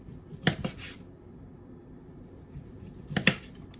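Knife slicing through a home-smoked turkey breast on a cutting board, two short scraping cuts with light clatter about three seconds apart, close by and fairly quiet, no talking.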